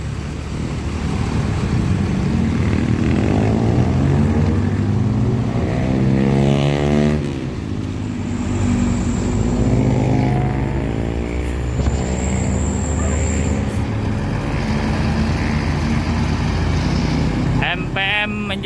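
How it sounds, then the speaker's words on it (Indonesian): A bus on the road toward West Sumatra drives along with a loud engine drone and gear changes, its pitch rising and dropping as it accelerates, close and steady throughout. "Menjadi bus pertama masuk menuju Sumatera Barat."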